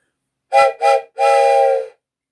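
A train horn is heard, or a voice imitating one: two short hoots, then one longer sustained tone, loud and close, alone in silence.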